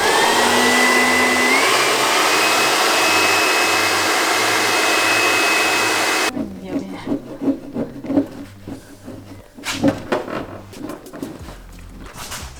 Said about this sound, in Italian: Phon, ci hanno consigliato, Phon e paletta in plastica